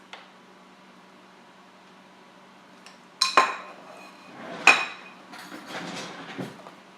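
Spoon clinking and scraping in a dish of cherry crunch with vanilla ice cream, a few sharp metallic taps and scoops after a quiet pause, close and alone.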